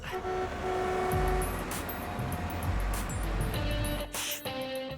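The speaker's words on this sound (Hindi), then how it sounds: "गाड़ी की आवाज सुनो।" A motor vehicle draws near with a rising engine rumble, joined by short horn toots, fairly close over a steady background.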